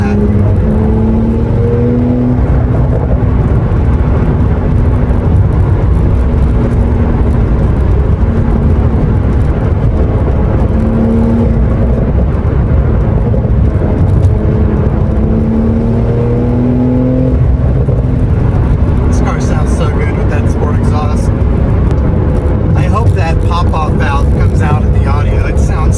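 An Audi all-wheel-drive car driving, a steady loud engine and road drone with tonal whine shifting as it accelerates, continuous throughout with a person talking over it.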